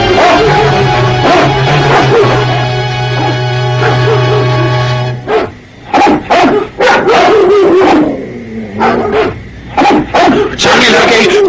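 Several dogs bark and yelp loudly in a jungle chase, at first over a sustained tone and shouting voices, then in choppy bursts of barks and whimpers mixed with people talking.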